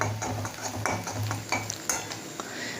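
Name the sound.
onions frying in mustard oil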